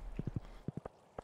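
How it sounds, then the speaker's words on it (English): Horse hooves clopping in the Stardew Valley video game, a run of quick, even clip-clop steps, fairly soft and close, with a short pause midway before more steps. "I'm on my horse, though."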